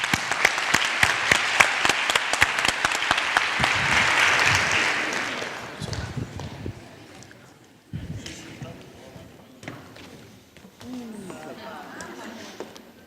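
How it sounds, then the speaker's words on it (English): An audience at a leadership talk breaks into dense, loud applause that swells and then fades, followed by a speaker talking and a few scattered sounds. "Let's give her a big round of applause."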